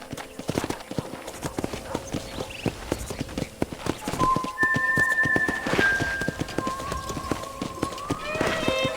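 Horse hooves clip-clop steadily while riding through a town in Red Dead Redemption on Nintendo Switch, a brisk repeating gait with occasional creaks and thuds, and a voice talking over it.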